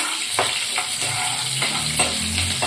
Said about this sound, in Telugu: చూడండి, ఇప్పుడు ఎర్రగడ్డలు వేస్తుంది. ఇట్లా బాగా వేగాలి